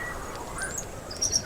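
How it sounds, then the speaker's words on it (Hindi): A migratory bird gives a few faint, high chirps over a soft background hum, brief and distant-sounding. "ये तो कोई प्रवासी पक्षी है"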